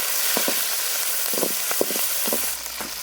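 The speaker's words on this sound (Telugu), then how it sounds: "కరివేపాకు కొద్దిగా వేసుకుందాం." Curry leaves crackle and sizzle in hot oil, added during tempering after mustard seeds, dried red chillies and cumin, with several sharp spitting bursts over a steady frying hiss, close and moderately loud, no talking.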